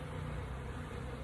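Honey bees swarm in front of their hives in a dense, steady buzzing drone that fills the whole moment without pause.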